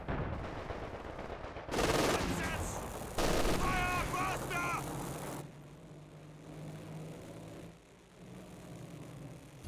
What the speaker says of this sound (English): This is a very curious time to be calling in zeroing artillery.